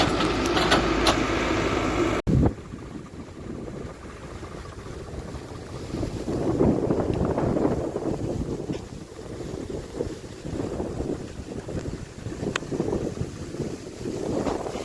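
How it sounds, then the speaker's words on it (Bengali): Wind blows through trees in rushing gusts that swell and fade repeatedly, leaves blowing down, with low buffeting rumble against the microphone and no voices. "জল হাওয়া ছেড়েছে ঠান্ডা শীতল হাওয়া গাছের পাতা উড়ে পড়ছে ঝরে পড়ছে"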